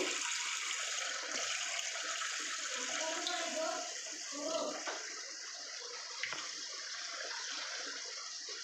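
Water is poured into milk for a Bengali doi katla fish curry, a steady, close hissing stream that runs continuously for over eight seconds with no talk.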